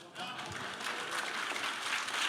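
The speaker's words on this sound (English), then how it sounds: "let's keep that applause going for everyone up here." Live studio audience applause for a panel of guests, a dense, steady patter of many hands close and fairly loud throughout.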